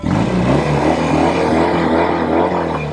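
A Norton Commando 850 motorcycle rumbles and revs up close, a loud, deep, continuous throaty exhaust roar with a rising and falling pitch.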